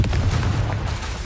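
A Confringo blasting spell explodes in Hogwarts Legacy, a short, dense low-end boom with rumbling debris filling the whole moment, loud and close amid busy combat noise.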